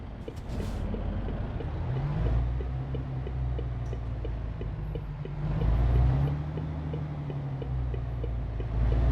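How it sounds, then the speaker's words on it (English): A car passes by in the truck-driving video game Euro Truck Simulator 2, its steady engine drone swelling twice over a continuous low truck hum. "Car coming. Wait until the car passes and then we'll go."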